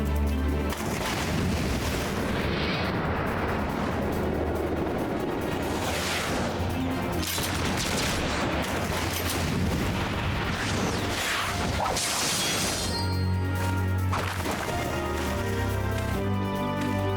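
Gunfire from a character in the Final Fantasy XIV video game crackles and booms in dense bursts over a loud, busy soundtrack, with crashes and impacts mixed in across the whole stretch.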